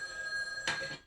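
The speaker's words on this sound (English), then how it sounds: "The phone rings." A telephone bell rings once in a quiet room, a short bright ring over a steady electrical hum, fading off quickly.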